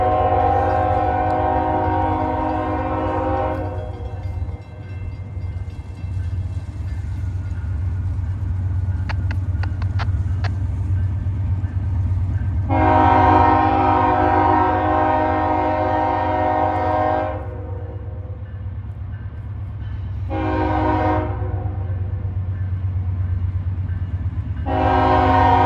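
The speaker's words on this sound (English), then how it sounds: "It's gonna be a long train." A long freight train rolls past trackside on the Buffalo Line, its heavy continuous rumble and clatter steady throughout while the horn sounds in several loud, drawn-out blasts, close by.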